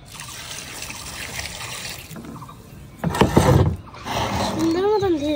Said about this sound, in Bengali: সুন্দর মতন ধুয়ে দিচ্ছি।